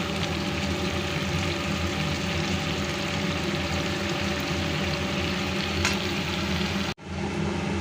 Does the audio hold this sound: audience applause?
no